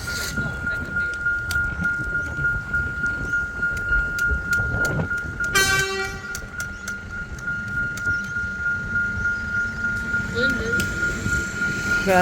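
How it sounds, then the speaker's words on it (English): An Alstom Comeng train moves slowly through an old level crossing at Giffard Street, Williamstown Beach, Victoria, a steady rumble under a constant high tone, with a sharp horn-like blast midway. "Yeah, that's an Alstrom Commons train."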